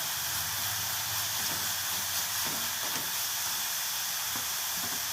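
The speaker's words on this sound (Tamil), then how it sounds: "பச்சை வாசனை போயிடுச்சு, கருவேப்பிலை போட்டுக்கலாம்." Curry leaves go into hot oil with sautéed onion in a pan for pakoda kurma, giving a steady, close sizzling hiss throughout with faint scattered crackles and light utensil sounds.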